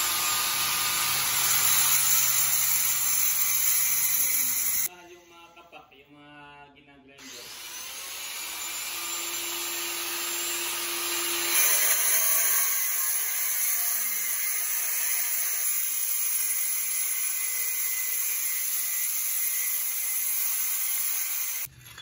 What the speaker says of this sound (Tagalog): Yan, ginag-grinder niya yan, yung tabi, para matanggal.